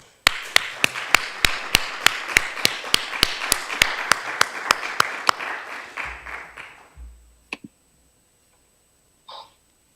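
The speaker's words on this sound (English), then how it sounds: "So I know the audience wants to clap as a thank you for your conference" Audience at a national journalists' conference clapping in thanks, heard as a rhythmic series of sharp, evenly spaced claps close to the microphone, with softer applause behind, stopping after about six seconds, then a few faint clicks.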